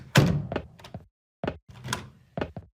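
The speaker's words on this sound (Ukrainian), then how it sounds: "Знову якісь двері відчиняються." A door creaks and thunks open in the horror video game Rental, a cluster of close, dry knocks and scrapes in two bursts separated by a short silence.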